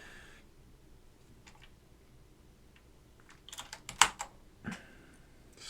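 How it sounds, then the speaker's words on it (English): Keys clatter on a vintage mechanical keyboard fitted with fresh keycaps, a sound test of short, uneven bursts of typing that grow louder near the end, heard close and without talk. "We're putting these keycaps on. We'll do a little sound test"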